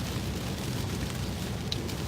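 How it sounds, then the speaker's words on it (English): Heavy rain pouring down outdoors, a dense, steady hiss and roar that runs the whole time without any talk. "it's pouring down rain"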